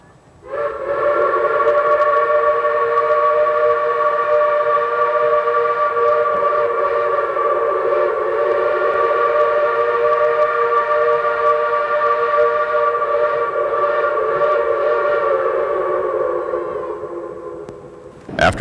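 An O gauge model Shay steam locomotive on a layout sounds one long, steady, sustained whistle that holds for most of the stretch before tapering off, heard alone and close.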